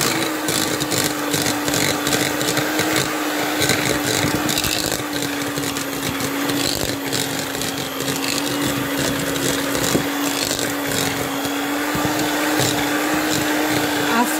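An electric mixer creams unsalted butter and brown sugar in a kitchen, giving a continuous steady whirring hum with a soft churning texture and no pauses.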